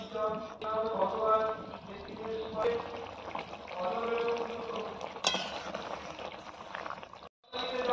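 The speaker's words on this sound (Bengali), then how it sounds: "ঝোল ফুটে গিয়েছে, মাছগুলো দিয়ে দেবো।" Boal fish curry gravy with onion paste and potatoes bubbling in a pan as the fish pieces go in, with a steady close simmering hiss and intermittent voice-like tones over it.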